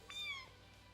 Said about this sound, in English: And when he meows, he sounds like a really young cat.